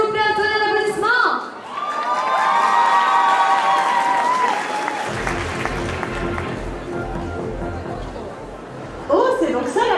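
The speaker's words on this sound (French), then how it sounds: "un tonnerre d'applaudissements" Audience at a Japan Party cosplay show bursting into loud applause, cheers and whoops, with music and a voice over the noise early on before the clapping carries on alone and fades.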